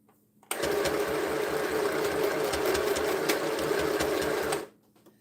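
Sewing machine running continuously while sewing ironed quilt strips together, a loud, even buzzing whir lasting about four seconds before it cuts off abruptly.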